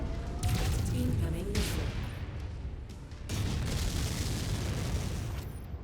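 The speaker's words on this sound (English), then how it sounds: "Incoming missile." Missile blasts and heavy weapon impacts in MechWarrior 5 battle, a loud sustained rumbling barrage with bursts around the start and midway, mixed with game voices.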